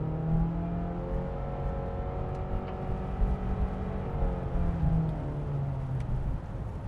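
A 2026 Honda CR-V EX-L AWD with a 1.5-liter turbocharged engine accelerates on the road, heard from inside the cabin as a steady, rising engine drone with climbing harmonic tones over constant road rumble.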